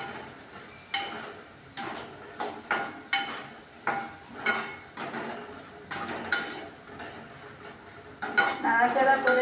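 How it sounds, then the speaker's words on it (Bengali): Spices, salt and sugar being stirred into a papad curry in a pan, a spoon scraping in rhythmic strokes roughly every half second, each with a soft sizzle and a clink against the metal, close and clear. "দেওয়ার পর আমি এটা একটু নাড়াচাড়া করে নেব"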